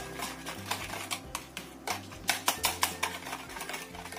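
Sweet potato batter is stirred with sugar in a bowl, giving a run of rhythmic scraping clicks and taps repeating about every third of a second, close and steady.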